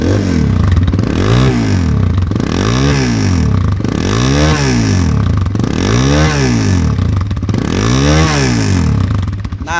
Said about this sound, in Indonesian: Itu dia suara dari KLX 140